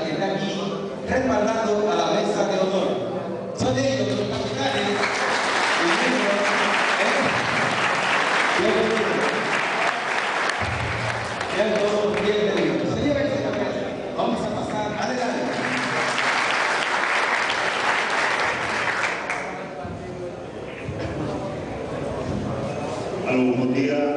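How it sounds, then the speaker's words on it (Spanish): Loud, sustained applause from the crowd at a provincial dominoes championship in Santo Domingo, honoring the band backing the head table, with voices and the noise of a busy hall mixed in. "vamos a darle un aplauso bien fuerte a esta batería que está aquí respaldando a la mesa de honor"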